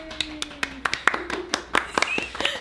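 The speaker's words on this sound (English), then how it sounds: "Let's have a little clap." A small audience at a Q&A session for a show gives a few scattered, uneven claps lasting under three seconds, mixed with talking.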